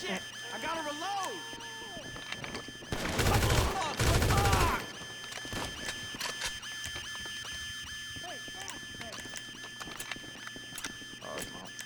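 Automatic gunfire during a GTA 5 Cayo Perico heist, a loud burst of rapid shots lasting about two seconds, with excited voices talking over the game sounds before and after.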